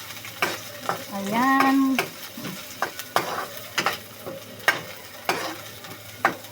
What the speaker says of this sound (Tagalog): Naginisa ko na ang bawang sibuyas.